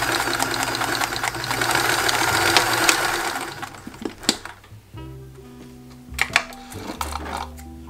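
Sewing machine stitching a slightly wider than quarter-inch seam on a white graduation dress, a loud steady whirring run for several seconds, then stopping with clicks and brief restarts.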